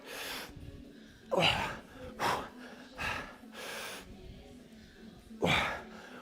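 Heavy, rhythmic breathing during a full-body workout: a series of sharp, forceful gasps and exhales spaced a second or so apart, close and loud, with no speech.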